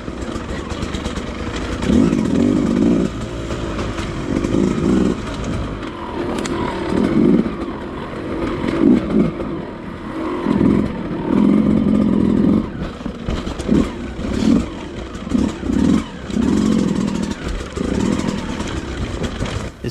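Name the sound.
Beta 200RR dirt bike riding on trails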